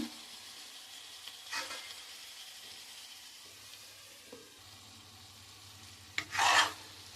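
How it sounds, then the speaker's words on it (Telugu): Gongura chicken cooking in a pan: a faint, steady low sizzle and simmer, broken by a couple of soft scrapes and one louder, brief stirring rasp near the end. "చికెన్ బాగా మగ్గనిద్దామండి"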